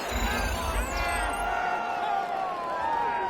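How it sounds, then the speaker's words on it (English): Stadium crowd in a football video game shouting and cheering during a replay, a continuous dense roar with scattered whoops rising over it, steady and fairly loud throughout. "Plenty of shouts from this crowd as they watch the replay."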